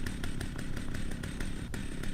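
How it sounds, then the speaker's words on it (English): Chainsaw carried by a scavenger in the video game Last Stand Dead Zone, a loud, constant buzzing motor with a fast, regular pulsing rhythm throughout. "The sound is the chainsaw that my scavenger is carrying."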